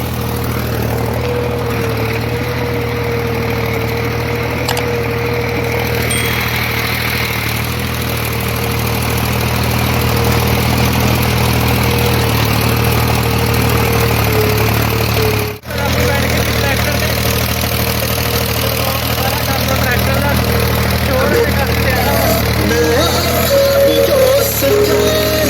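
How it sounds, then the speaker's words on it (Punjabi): A tractor engine runs steadily on a hot village day, a loud, low idling drone with constant vibration throughout, briefly dipping once midway before continuing unchanged. "ਫਿਰ ਤੁਸੀਂ ਹੁਣ ਟਰੈਕਟਰ ਦਾ ਨਿਜ਼ਾਮ ਦੇਖੋ ਚੱਲਦਾ ਆ"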